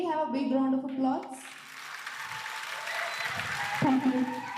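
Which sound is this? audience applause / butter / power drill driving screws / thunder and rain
audience applause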